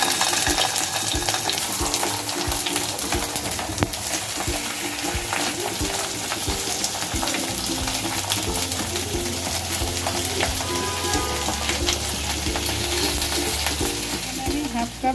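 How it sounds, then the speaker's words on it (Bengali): Rohu fish pieces frying in hot mustard oil in a wok, a loud, continuous sizzle and crackle with occasional stirring scrapes, close and steady throughout. "এখন এই মাছগুলো হালকা করে ভেজে নেব।"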